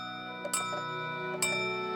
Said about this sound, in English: the clock hasn't chimed yet. Oh, it's chiming now.